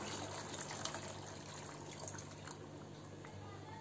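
Hot water, about a glassful, pours faintly and steadily into a restaurant-style egg masala gravy cooking over a medium flame.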